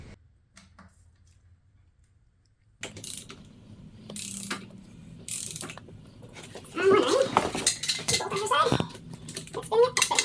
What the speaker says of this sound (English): So we're going to take out this bolt, same thing on the other side